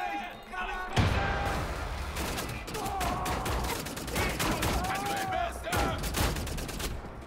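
Rapid, dense bursts of gunfire from the first-person shooter Wolfenstein: The New Order, with sustained volleys of close shots that run almost continuously after a sudden onset, while voices talk underneath.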